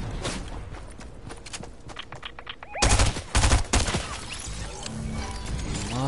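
Video-game gunfire rattles in rapid bursts, with quieter mechanical clicks and footsteps first, then a few loud, dense volleys midway before fading back to lighter shots.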